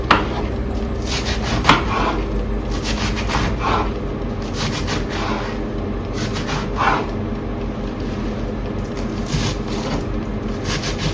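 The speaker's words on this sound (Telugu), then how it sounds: "లెట్యూస్ని చిన్నగా స్మాల్ పీసెస్ ఇట్లా కట్ చేసుకొని" Knife chopping lettuce into small pieces on a cutting board while preparing an air-fried chicken dish, a steady run of close, rhythmic cuts throughout with no talking.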